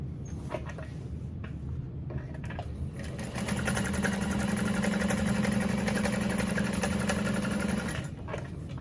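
Sewing machine top stitching a backpack, a continuous mechanical whir that picks up speed into a steady, close buzz of rapid stitching before easing off near the end.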